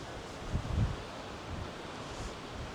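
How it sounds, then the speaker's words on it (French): Strong wind at Cap Spartel near Tangier, Morocco buffets a microphone fitted with a windscreen, a low roaring rumble with a heavier gust early on, heard alone without speech. "j'ai mis la bonnette, mais il y a au taquet de vent."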